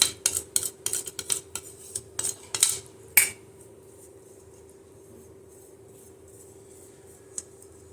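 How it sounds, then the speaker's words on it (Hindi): A spoon or utensil scrapes and clanks against a pot in a quick series of close metallic knocks while a cooled flour mixture is stirred, then it stops, leaving a quiet hum and one later faint clink. "अब इसको अच्छे से मिक्स कर देना है पहले"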